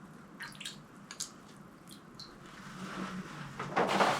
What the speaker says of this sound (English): I'm going to put the puck back into the water